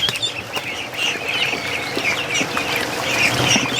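A flock of farm ducks, including a crested Mohawk duck and Dalmatian ducks, quacks continuously in a busy outdoor chorus, with overlapping calls near and far and no talking.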